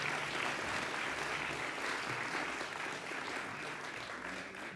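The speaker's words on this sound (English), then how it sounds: "Give her another big round of applause, please" Sustained applause from an audience at an animal justice awards ceremony, a steady dense wash of clapping that fills the whole stretch at an even level with no talk over it.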